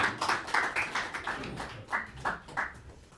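A lecture-hall audience at a public talk gives quiet, scattered applause, with a few distinct hand claps spaced irregularly rather than a full ovation.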